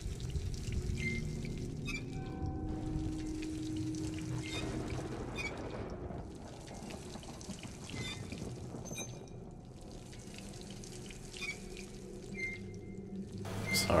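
Running tap water pours steadily as a character drinks in Dishonored, a continuous splashing stream with faint intermittent clicks, heard alone without any talk.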